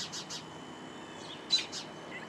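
Sharp, repeated robin calls ring out in short bursts from close overhead, a quick series of chirps, a pause, then more, over faint outdoor hiss.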